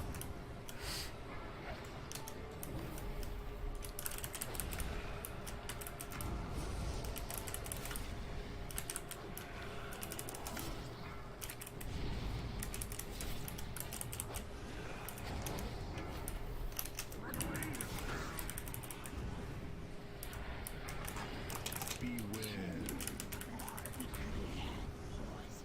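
Keys clack on a computer keyboard during a World of Warcraft Mythic Shrine of the Storm dungeon run, a rapid, faint patter heard under game sounds and a steady hum, with speech present.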